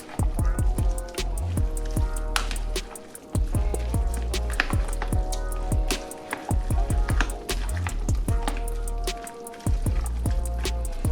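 A salmon taco mixture with extra virgin olive oil is stirred steadily, making loud, close, rhythmic wet squishing and scraping that continues throughout.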